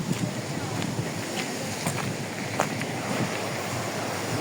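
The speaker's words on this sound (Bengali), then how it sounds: "সমুদ্র।" Sea waves wash steadily onto a Malaysian beach beside a palm plantation, a constant close surf roar with gusts of wind rumbling across the microphone.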